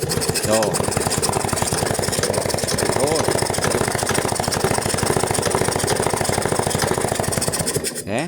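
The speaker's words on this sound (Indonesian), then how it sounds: "maka kita akan selah dulu seperti ini teman-teman" Vespa scooter with a carburetor being kick-started repeatedly to clear excess fuel, a loud continuous mechanical rasping and churning that holds steady for about eight seconds before cutting off.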